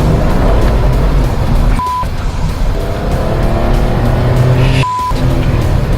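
Vauxhall Lotus Carlton with a 3.6 litre engine and rear-wheel drive, driven hard: loud continuous engine roar with rising harmonic tones, cut by two brief gear-change dips around the second and fifth seconds, alone without talk.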